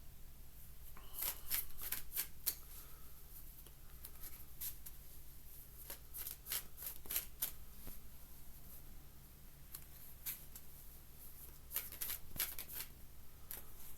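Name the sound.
shuffling cards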